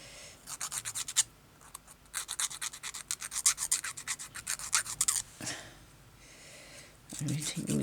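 Metal file rasping back and forth on a part that snags fabric during crazy patchwork sewing, close by in quick bursts of strokes with brief pauses between runs.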